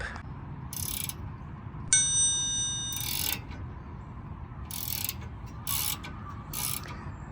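A wrench loosens a bolt on the rear brake of a Ford F150, giving short metallic ratcheting clicks in several separate bursts, close and fairly quiet over a low background hum, with a brief ringing metal tone.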